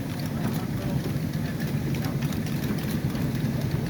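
A tractor engine runs at a steady low idle close by on a railroad work site, a constant low rumble with no change in pitch across the whole stretch.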